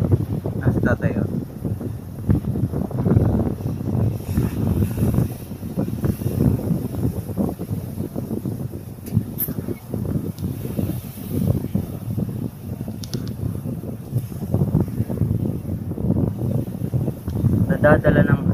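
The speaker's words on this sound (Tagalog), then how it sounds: "Nadadala ng hangin, malakas ng hangin." Strong wind buffeting outdoors at Fortune Island, a loud continuous roar with gusty rumble throughout, over the sea.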